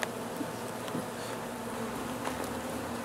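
Honey bees buzz steadily during a hive inspection, a dense continuous drone close by, with no voices.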